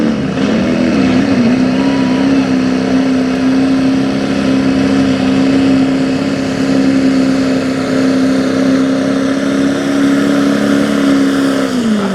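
Diesel truck engine at a truck pull shootout holds a loud, steady high rev for about twelve seconds, droning at full throttle before easing off at the end, with no talk over it.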